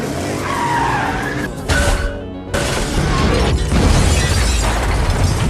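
Cars in a mafia film chase scene swerve and skid, tires squealing loudly in long sustained screeches with a brief dropout midway, over roaring engine noise and no talk.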